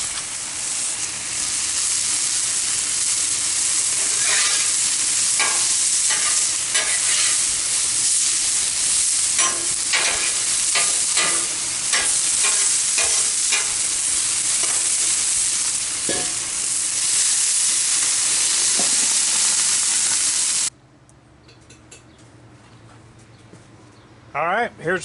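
Burger dogs fry on a Blackstone griddle with a loud, constant sizzle and scattered spatters and scrapes, while someone talks over it. The sizzle cuts off abruptly near the end, leaving near quiet.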